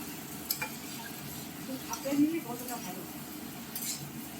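Raw green mango pieces tossed into spices already frying in a pan for a sour bata fish curry, giving a soft steady sizzle with scraping spoon strokes and light clinks, faint talk in the background.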